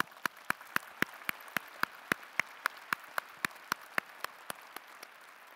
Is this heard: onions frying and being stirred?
no